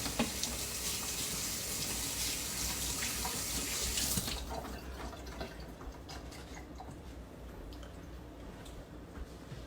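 Water runs steadily from a kitchen tap while hands are rinsed, a continuous close splashing that softens partway through as the flow changes.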